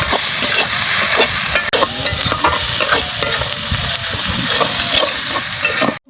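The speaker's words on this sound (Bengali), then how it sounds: "মশলাটা কষিয়ে নিব" Spice paste with salt, turmeric and chili being fried and stirred for a pangas fish curry, a loud continuous sizzle and hiss with repeated scraping strokes of the spoon, close up and steady, breaking off abruptly at the end.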